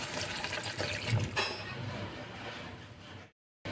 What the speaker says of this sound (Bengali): দিচ্ছি জল।